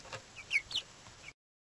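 A hen clucks in a few short, close, fairly soft calls over about a second, then silence.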